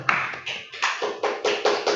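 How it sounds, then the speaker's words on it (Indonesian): An audience claps together in a few short bursts, rhythmic groups of hand claps separated by brief pauses, close and moderately loud, with no talking over them. "Oke, tepuk tangan dulu."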